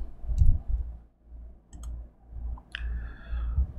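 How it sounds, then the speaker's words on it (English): A few sharp, isolated computer mouse clicks tap out at intervals over quiet room noise while payment software is operated at a desk. "We'll click on Payment"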